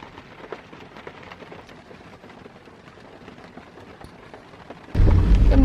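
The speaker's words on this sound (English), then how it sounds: "It's raining. It's thunderstorming." Rain and a thunderstorm at 5 a.m., heard from inside a car while camping, with steady pattering noise throughout and a sudden loud, heavy rumble or downpour surge near the end.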